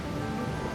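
Steady rain pours over a desert in the video game Trails beyond the Horizon, a soft, even hiss of falling drops that holds at constant volume with no voices.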